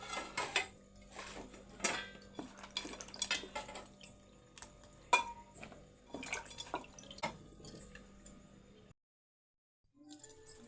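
Cut brinjal pieces are washed in water in a bowl, with close, irregular splashes, drips and clinks of the vegetable against the dish, then a short silence and a few final knocks.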